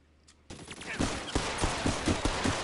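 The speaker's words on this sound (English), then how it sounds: "Use your machine gun." Rapid bursts of machine gun fire from a shootout in the VR game L.A. Noire, starting suddenly after a quiet moment and repeating in loud, rhythmic volleys.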